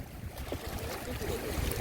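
Wind buffets the microphone in a constant low rumble and roar, with no clear voices over it.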